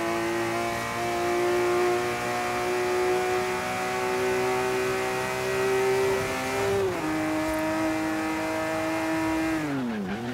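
A TVR Sagaris driving through a tunnel in Forza Horizon 3 gives a steady, loud, close engine drone at constant revs, with brief dips in pitch near the end as the car changes speed.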